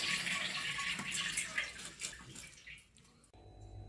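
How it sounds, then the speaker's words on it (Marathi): Water drains from pearl millet soaked for twelve hours as it sits in a sieve, a soft steady trickle and patter that fades away after a few seconds, with no talk. "मी अशा चाळणीमध्ये बाजरीचं पाणी निथळून घेते"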